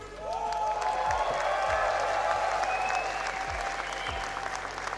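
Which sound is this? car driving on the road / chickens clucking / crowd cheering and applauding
crowd cheering and applauding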